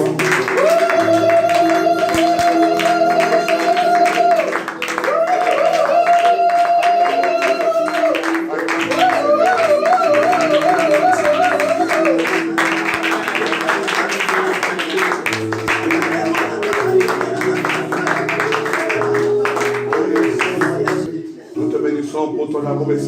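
A church congregation at a Sunday worship service claps steadily in rhythm over loud music and singing, the clapping continuous beneath the melody for most of the stretch.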